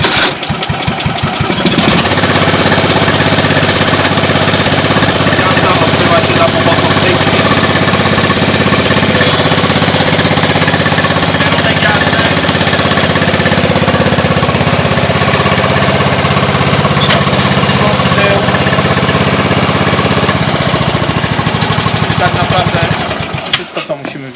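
A STIHL series 5 garden tractor engine catches and then runs loud and steady with a rattling, chugging drone. It cuts off abruptly near the end.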